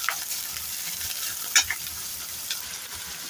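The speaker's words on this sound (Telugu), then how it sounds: "ఆయిల్ హీట్ ఎక్కింది కదా, ఇప్పుడు ఆనియన్ యాడ్ చేద్దాం. ఇలా ఆనియన్ వేసినాక ఒకసారి కలుపుకుందాం." Onions frying in hot oil for egg curry, stirred with a spoon: steady close sizzle with scraping stir strokes, one sharper clink near the middle, no voices.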